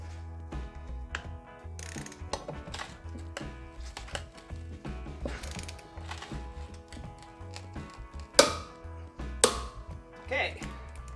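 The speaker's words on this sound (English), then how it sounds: "let's torque it again back to 600 Newton meters" A torque wrench tightening a Porsche center lock wheel nut to 600 Nm gives rapid ratcheting clicks and clacks, close and fairly quiet, with a couple of sharper metallic snaps toward the end.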